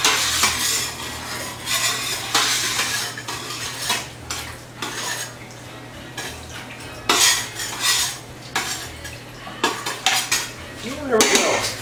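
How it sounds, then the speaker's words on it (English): A spoon stirs water and sugar in a container, scraping and clinking against its sides in repeated bursts with short pauses, a harsh, grating metallic sound up close. "I'm just going to stir up the water and the sugar here"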